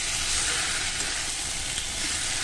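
Cabbage, potato and pea momo filling stir-fried dry in a pan, a dense continuous close sizzle with soft shuffling of the stirring underneath.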